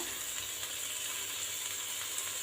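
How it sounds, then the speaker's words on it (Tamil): Onions, tomato and coriander leaves sauté in a pan, giving a steady, quiet sizzle with faint stirring scrapes throughout and one sharper clink near the end. "அப்படியே வதங்கட்டும், கொஞ்சம் நல்லா வதங்கணும்"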